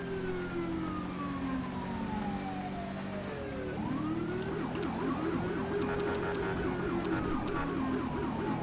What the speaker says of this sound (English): I just fucking love the siren